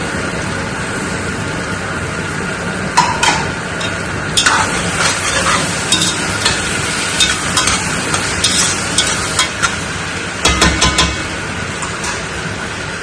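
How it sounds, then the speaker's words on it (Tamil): Onions and tomatoes sautéing in a pan for an Arabic-style biryani, a steady sizzle with scattered scraping stir strokes and clusters of sharper clinks near the middle and end. "வெங்காயம், தக்காளி நல்லா வதங்கிடுச்சு."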